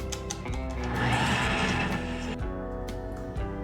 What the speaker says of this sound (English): keep that mixer going.